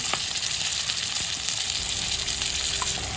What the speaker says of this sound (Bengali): এই মশলাটা আলুর সাথে তেলের মধ্যে খুব ভালো করে ভেজে নেব।